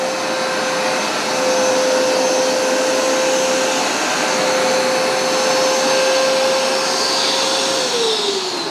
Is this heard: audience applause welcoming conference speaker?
no